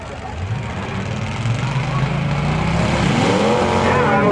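A demolition derby car keeps driving around the arena after losing its flag, its engine droning steadily and rising in pitch as it revs, with a broad background of crowd and other motors.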